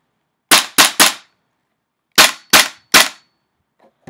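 Six sharp, loud shots from a GHK G5 gas airsoft pistol, fired in two quick bursts of three with a pause between, each cracking and fading fast.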